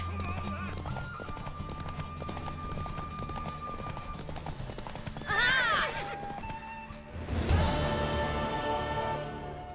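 Hooves clip-clop steadily while a horse neighs twice, loud and close, over The Witcher 3: Wild Hunt game music and background talk.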